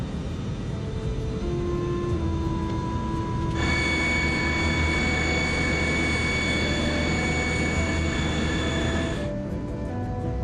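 A Comair 191 airliner on its takeoff roll, a steady loud jet engine roar with a sustained rising whine that intensifies midway and then eases near the end, with no talking.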